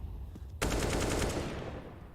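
An AK rifle fires in Counter-Strike during an ESL Pro League match: after a short quiet stretch, a loud, close, rapid automatic burst rattles for about a second, then its echo fades.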